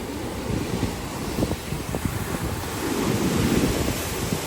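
Ocean waves wash onto a short shore beside a hotel in Cancún, a steady rolling surf with soft breaking swells and some wind buffeting the microphone, no voices.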